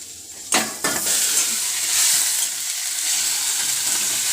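Chicken with ginger, garlic and green chilli frying in a pan gives a bright, continuous sizzle, broken early on by two sharp spatula scrapes against the pan.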